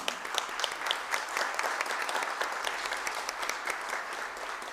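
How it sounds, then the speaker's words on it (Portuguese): An audience at a formal solemn session for a Tiradentes Medal honouring Dr. Mário Vaz applauds the family, a full, even round of many hands clapping throughout. "Vamos aplaudir, né?"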